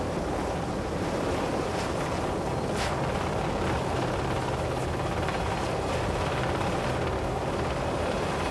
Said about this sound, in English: we use helicopters in a system called the VERTREP, the vertical replenishment